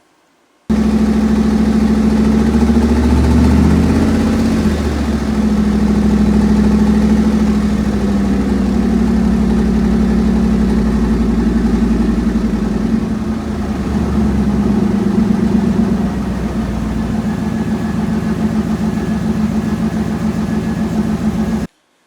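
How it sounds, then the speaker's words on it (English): A Firebird car engine idles steadily for about twenty seconds, a loud, close, continuous low rumble that shifts only slightly in tone, with no voices. "So there you saw the Firebird running it."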